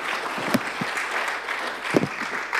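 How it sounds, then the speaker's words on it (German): Brief audience applause at a health talk on knee arthritis, steady clapping with a couple of louder accents, close by and with light voices mixed in. "wir können sehr zufrieden sein und geben ihr erstmal einen Applaus."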